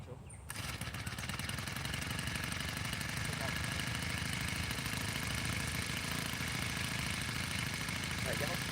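A small engine sputters roughly after choking, starving for gas, with a steady close chugging drone that runs throughout.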